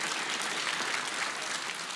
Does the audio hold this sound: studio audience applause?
yes